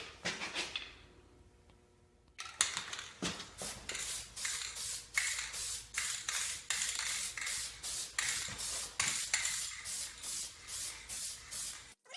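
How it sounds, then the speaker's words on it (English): A spray bottle of Turtle Wax Power Out cleaner hisses in a steady series of short bursts, about one every half second, close by after a quiet start, its nozzle spraying poorly while cleaning a dirty car seat. "this thing isn't spraying very well as it is"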